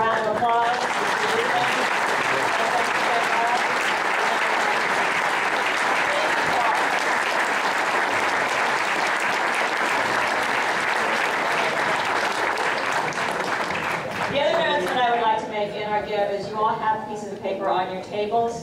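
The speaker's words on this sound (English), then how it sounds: "So we're going to have a little round of applause." A room of supporters gives sustained, loud applause for Boys & Girls Club kids, dense clapping that continues for about fifteen seconds before a voice begins speaking over the fading claps.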